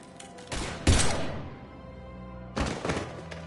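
Gunfire in the video game Mass Effect: two heavy bursts of shots with booming, ringing tails that decay slowly, separated by about a second and a half of fading echo.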